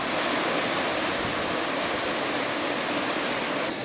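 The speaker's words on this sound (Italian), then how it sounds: "qui c'è anche una specie di rapida con le cascatelle" River rapids with small cascades in the Balkans, a loud, dense and unbroken rush of water close by with no voices.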